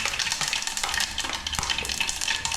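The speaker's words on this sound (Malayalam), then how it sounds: "പരിപ്പിന് കടുക് വറുക്കാൻ കടുക് ഇടാം." Mustard seeds splutter and pop in a hot pan for Malayalam-style paripp (dal) curry, a dense, steady sizzle broken by sharp crackling bursts, close and loud with no talking.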